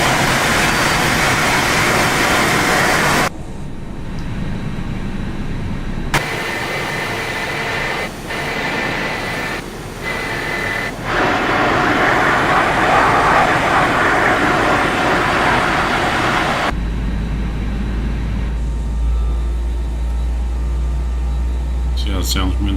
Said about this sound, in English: A little loud now that the other engine started.